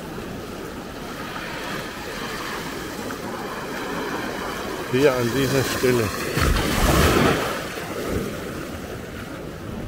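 Ocean surf rolls in steadily at Maspalomas on Gran Canaria, a continuous broad wash mixed with wind on the microphone, while someone speaks briefly partway through.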